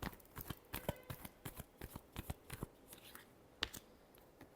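Tarot cards being shuffled by hand in a series of quick riffling bursts, fairly close and moderately quiet, with no talk over them.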